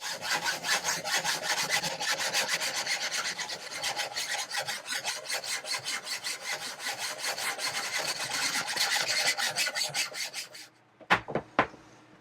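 A handsaw rasps back and forth through a boat's steering cable conduit, a steady run of rapid strokes that keeps going for about ten seconds and then gives way to a few sharp knocks near the end.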